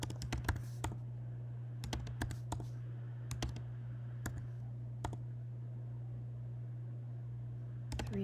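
Buttons on a calculator are pressed to enter statistics data, crisp taps arriving in short irregular bursts over a constant low electrical hum, recorded close and fairly quiet, with no speech.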